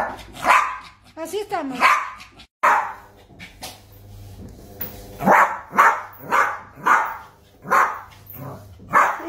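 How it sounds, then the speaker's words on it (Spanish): Dog barking angrily at a washing machine indoors, a string of loud, near barks in irregular bursts that become a steady rhythm, with a person talking over the first part. "Lo bajé y sigue al lado del lavarropas ladrando."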